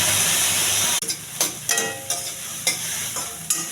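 Boiled green peas stirred into a sizzling tempering of onion, green chili, chili powder and turmeric in a pan: a sudden drop as they go in, then a steady hiss broken by repeated scraping stirs.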